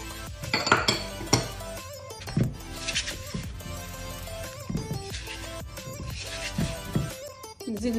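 Butter and icing sugar are mixed in a bowl for mini tartlets, with a spoon clinking and scraping against the dish in repeated, uneven strokes at close range.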